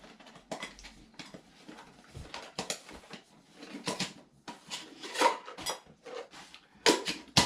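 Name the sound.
lightweight camping cook kit cup and bowl handled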